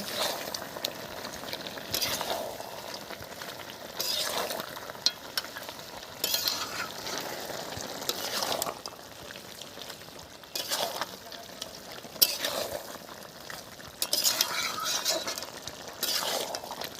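Country chicken with turmeric, chilli powder, tomato, garlic and ginger sizzles steadily in a pan, broken by repeated spatula stirs and light clinks at a close distance.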